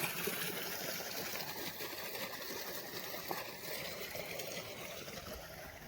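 Steady rushing water flows into a cotton field without a break, a broad continuous gush with a faint mechanical hum underneath, close by and fairly loud.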